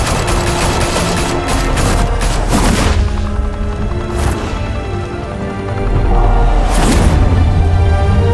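Heavy, sustained gunfire in Batman: The Telltale Series, loud bursts of shots and booming impacts running continuously throughout, close and dense with no talking.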